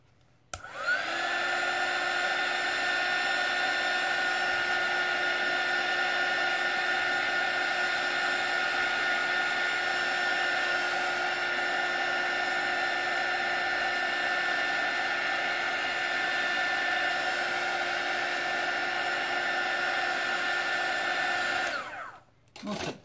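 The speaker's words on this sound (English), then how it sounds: "I'm going to give it a blast from my heat tool" A heat tool blows hot air to dry tissue paper on an art journal page, a loud steady whining roar that starts abruptly, holds constant for about twenty seconds, then cuts off.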